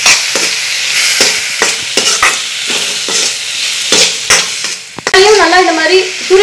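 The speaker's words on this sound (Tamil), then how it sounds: "இப்போ நறுக்கி வச்ச இந்த தக்காளியையும் லேசா வதக்கிக்கோங்க" Chopped tomatoes sauté and fry in a pan for a spicy Indian mushroom masala curry, with a steady sizzle and repeated stirring scrapes, close and loud throughout, and no talking.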